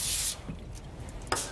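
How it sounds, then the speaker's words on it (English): Nonstick cooking spray hisses onto a sheet tray in one short burst, followed by a quieter second quick spritz, close and clear. "I put a little nonstick spray here so they won't stick too badly."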